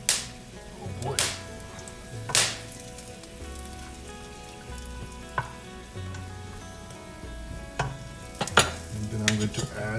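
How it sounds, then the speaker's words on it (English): Garam masala, clove, cinnamon and cardamom sautéing in hot oil make a crackling, spitting sizzle, with a few sharp spatula scrapes and pops standing out near and clear. "I'm going to saute this garam masala, clove, cinnamon, and cardamom for a few seconds"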